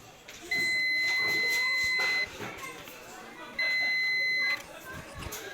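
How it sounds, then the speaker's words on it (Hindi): A multimeter's continuity buzzer sounds while the ground on an LED TV board is checked, giving two steady high-pitched beeps of about one and a half seconds and one second, with someone talking around them. "देख रहे हैं बजर जो बज रहा है, तो इसका मतलब है कि ग्राउंड है।"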